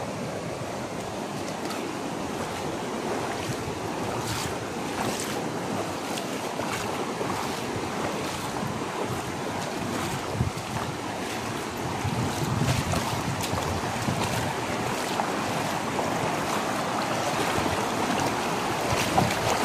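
Rushing river water during a crossing on foot, a steady broadband wash that continues throughout with slight swells, close and fairly loud, with wind buffeting the microphone and no talking.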